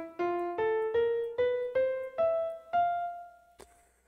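A six-note musical scale plays as clear sustained notes, each struck in turn and stepping upward, followed by a short click at the end.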